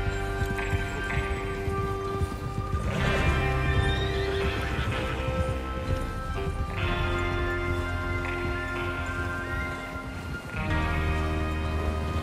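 In Red Dead Redemption 2, horses whinny and neigh over steady clip-clopping hooves, set against a dense, continuous bed of rumbling background sound.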